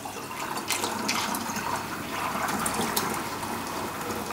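Ginger syrup pours into a glass vinegar bottle in a continuous gurgling stream, close and fairly loud, with no one talking.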